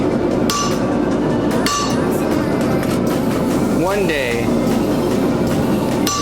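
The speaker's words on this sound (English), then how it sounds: "Now I'm hitting it with a little bit more oomph." Sharp metallic hammer blows ring out at uneven intervals over a constant background hum while forging a simple hook rack, with a brief spoken phrase partway through.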